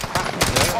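Rapid bursts of automatic gunfire from an XM4 rifle in Call of Duty Warzone, several sharp close shots in quick succession, with players talking over the shooting.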